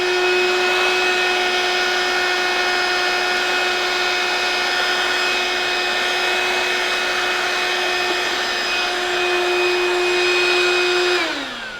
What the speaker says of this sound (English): Around the room you'll find battery-operated vacuum cleaners.